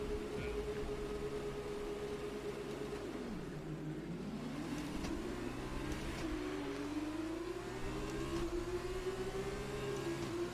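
F2 race car engines in F1 2020 rev and howl off the sprint race start, a rising and falling engine note sweeping up through gears, steady and fairly quiet with no talk.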